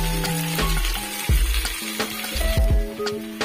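Bok choy and tofu cook in a pan, giving a loud, close sizzle broken by stirring clatter and utensil knocks against the pan, with no talk.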